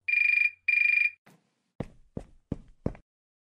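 A telephone rings with two electronic bursts, clear and close, followed by a few soft knocks or footsteps.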